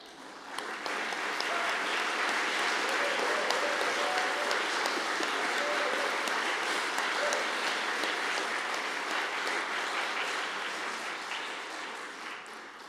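A commemoration audience gives teachers a long, steady round of applause, dense and even throughout with faint voices beneath, tapering slightly at the end.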